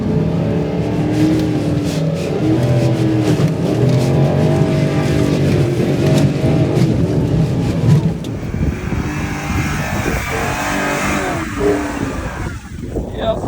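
A Porsche Cayenne driving off-road in low-range four-wheel drive, its engine droning loudly and steadily with rumbling tyre and chassis noise, shifting to rougher crunching toward the end.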